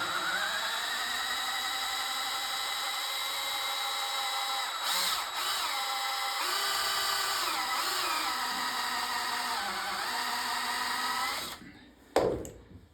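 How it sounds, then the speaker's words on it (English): Power drill boring steadily through an arcade cabinet control panel during a Satan's Hollow restoration, a sustained loud whine with slight pitch dips, ending abruptly before a short clatter. "Trying to keep the drill bit straight as possible."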